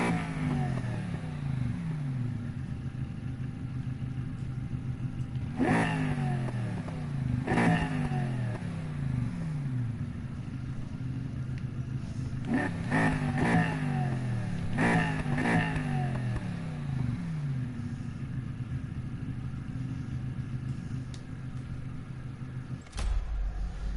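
A 7-liter car engine in Need for Speed Heat, set for drag racing, revs repeatedly in sharp bursts, each rising and falling in pitch, loud and close over a steady idle.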